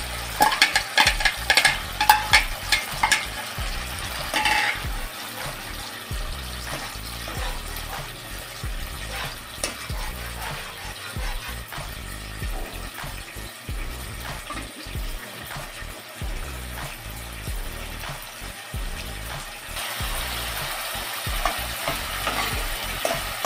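A water-mixed spice paste sizzles and bubbles loudly in oil in a pan while a spoon stirs it, keeping up a steady, close, hissing fry with scraping strokes, and no one speaking.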